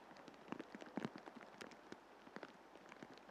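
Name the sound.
rain falling on a golf course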